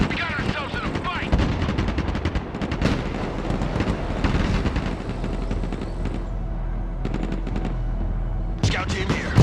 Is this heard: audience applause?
no